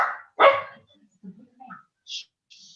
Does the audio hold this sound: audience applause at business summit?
no